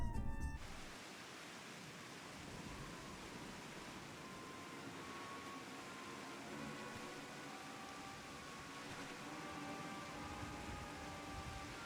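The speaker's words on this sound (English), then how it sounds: "I wonder if it's raining on purpose." Steady rain falls in the video game Final Fantasy XIV, a constant even hiss with no voices, opening with a brief louder burst before settling into a soft, unbroken downpour.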